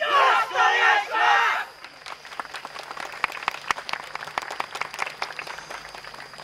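At a yosakoi dance performance during the Hadano Genki Festival autumn 2022, a loud group shout opens, then an audience claps along in a steady stream of sharp, moderately close hand claps.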